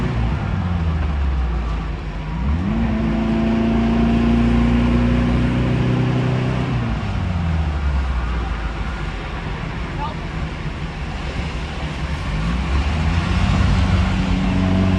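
A VW Thing drives while stuck in second gear, its engine droning loud and close with steady road noise. The pitch climbs and falls through a couple of long revving swells.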